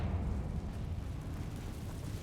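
A Confringo fire spell exploding in the video game Hogwarts Legacy, a deep rumbling blast that stays heavy and sustained for a couple of seconds.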